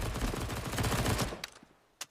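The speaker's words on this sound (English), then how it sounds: "Lots of gunfire being exchanged through that top banana smoke." Dense, rapid gunfire from Counter-Strike on the Inferno map, traded through a smoke at top banana during a professional Furia versus Fnatic match, loud and continuous for over a second before a few sparse, isolated shots.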